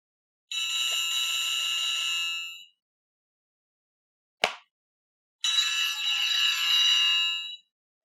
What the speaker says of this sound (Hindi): सुनो तो सही, देखो किसका फोन है।